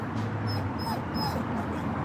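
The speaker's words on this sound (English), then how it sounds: "Have you got one more bark for Cindy, buddy?" A pet dog on a patio gives a few short, soft yips and whimpers over steady background noise, with no one talking.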